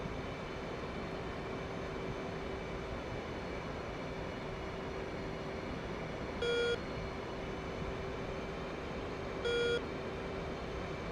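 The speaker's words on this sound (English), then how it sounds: "Getting a radar beep." Two short electronic warning beeps from the radar warning receiver in an F/A-18C cockpit in DCS World, evenly spaced about three seconds apart over a steady engine and cockpit hum, with no talking.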